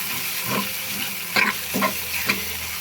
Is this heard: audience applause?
no